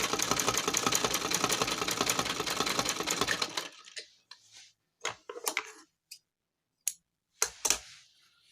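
A sewing machine stitches a cloth face mask in a fast, even, loud whirring run for about three and a half seconds, then stops, followed by scattered clicks and handling knocks of the fabric.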